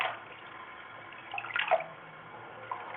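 Soft splashing and dripping from an Indian Ringneck parrot bathing, quiet and close, with a brief flurry of louder water movement partway through.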